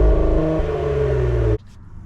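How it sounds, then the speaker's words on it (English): Exhaust note of a Cadillac CT5-V sedan, a loud, close, steady engine drone with a strong low tone that cuts off abruptly after about a second and a half. "enjoy the exhaust note"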